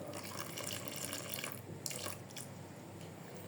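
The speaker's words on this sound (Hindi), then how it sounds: "यहाँ हम इसमें थोड़ा सा पानी शामिल करेंगे।" Water is poured into jalebi batter in a bowl, making a soft, steady trickling splash for a few seconds, fairly faint and close, with no speech.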